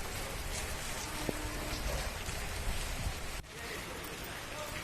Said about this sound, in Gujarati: વીજળીના કડાકા ભડાકા સાથે અહીંયા ધોધમાર વરસાદ પડ્યો